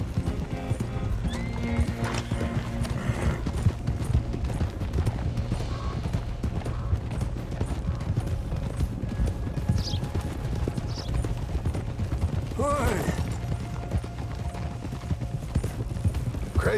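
Hooves clip-clop continuously as a horse travels past stables at a manor in the video game Red Dead Redemption 2, a steady rhythm under a game soundscape that includes creaks and a brief whinny.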